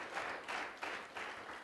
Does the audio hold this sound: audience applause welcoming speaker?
yes